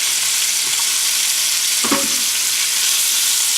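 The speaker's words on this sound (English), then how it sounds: "So now I'm going to brown off my onions and add them to the pot" Onions brown in bacon grease in a pot with a loud, steady sizzle, broken once by a brief clatter of stirring.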